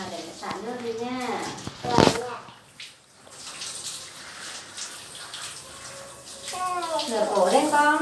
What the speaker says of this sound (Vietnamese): À, để xả nước đi nha.